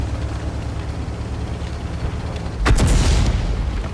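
In World of Tanks, the KV-2's 152mm gun fires once, a single heavy boom breaking over a steady engine rumble, with a sustained low roar trailing after the blast.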